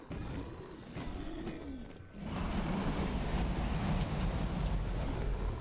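Dragon roaring in the Minecraft Hulk mod, a loud sustained rumbling roar that swells sharply about two seconds in and holds at full strength, mixed with a windy, surf-like wash.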